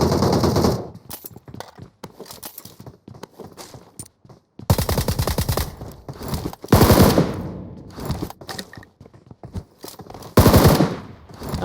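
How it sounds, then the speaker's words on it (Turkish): Bursts of automatic gunfire from a UMP submachine gun in the PUBG Mobile battle game, loud rapid volleys separated by short quieter gaps, with one more burst near the end. "Şurada da biri UMP sıkıyor."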